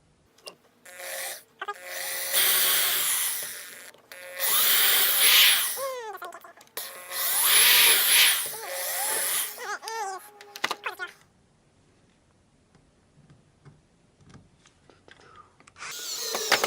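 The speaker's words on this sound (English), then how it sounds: "drill in my little pilot holes real" A power drill whirs in several short bursts into wood, rising and falling in pitch, with pauses between and a voice speaking nearby.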